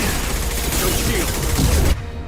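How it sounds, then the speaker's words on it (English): A high-impact shot in the sci-fi shooter Mass Effect 2 sounds as a dense, loud burst of battle noise that runs almost to the end and then cuts off sharply. "Firing a high-impact shot."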